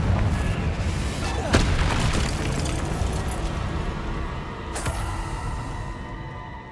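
Confringo blasting spells in the Hogwarts Legacy video game go off as two sharp, loud explosive booms a few seconds apart, each fading into a dense rumbling din of battle noise.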